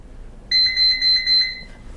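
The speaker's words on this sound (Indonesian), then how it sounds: "printer akan bunyi bip." A Kassen DT640 label printer gives a clear electronic beep after finishing a label, three quick pulsing tones in one close, bright burst with no one talking.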